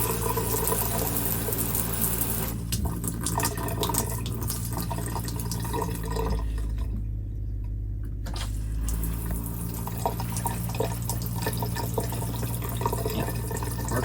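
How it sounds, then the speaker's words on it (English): Water running through an Epic Water Smart Shield under-sink filter hooked up to an RV, a steady close rushing hiss that briefly drops away for about a second midway, then resumes. "There's the water flow"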